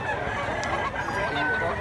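Bullstag blacklick fighting cocks crow at a rooster sale, their drawn-out calls overlapping with clucking amid continuous outdoor noise and nearby chatter.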